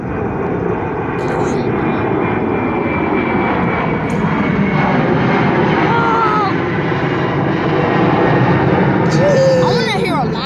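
American Airlines jet airliner taking off, a loud continuous engine roar that holds strong and close the whole time, with faint birdsong above it.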